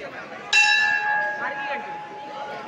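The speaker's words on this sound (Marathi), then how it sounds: "पूर्ण जंप करून हा मुलगा घंटी वाजवणार आहे." A temple bell in Appachiwadi is struck once by a boy jumping up to it. It gives a loud, bright clang that rings on with a sustained metallic hum, while faint voices murmur in the background.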